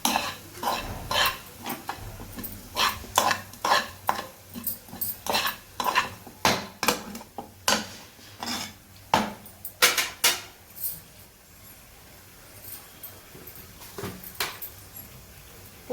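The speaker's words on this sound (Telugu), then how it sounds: "అటుకులు వేసేసుకుని శుభ్రంగా దీన్ని కలుపుకోవాలి." Poha (flattened rice) with salt being stirred in a pan, a series of rhythmic scraping and clinking strokes of a utensil against metal that thin out toward the end, close and clear.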